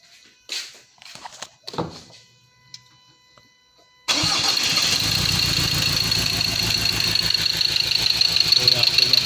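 A Ford Ranger T6 with an injector fault and rough running starts up after a few clicks and thunks, then settles into a loud, steady, close idle that carries on without a break.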